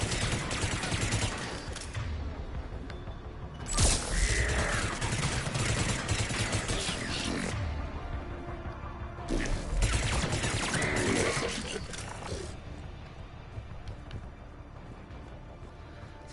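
The Locust gun fires in Mass Effect 3 in loud, sustained bursts separated by quieter stretches where a voice talks over a low background rumble.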